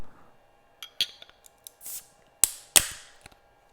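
A bottle of Sam Adams Octoberfest beer is opened up close in a quiet room, with a few sharp metallic clicks and snaps, a brief hiss of gas, then two loud cap pops with faint clinks after.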